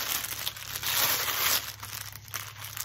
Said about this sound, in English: that's in a plastic bag I'm grabbing